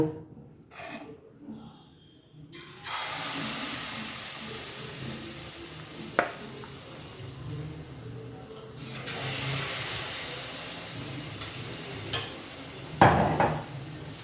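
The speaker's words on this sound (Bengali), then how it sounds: "এবার আমি মালপোয়াগুলোকে এক হাতা করে নেব নিয়ে তেলের মধ্যে ছাড়ব" Mango malpua batter fries in hot oil in a wok, giving a steady loud sizzle and hiss that swells as ladlefuls go in. A few clicks and stirring sounds come through, close up and without voices.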